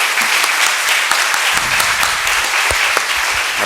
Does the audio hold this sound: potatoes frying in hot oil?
no